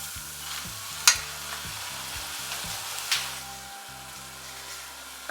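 Ribbon pakoda fries in foaming oil, a steady close sizzle broken by a couple of sharp scraping clinks from turning the pieces, with a low hum beneath.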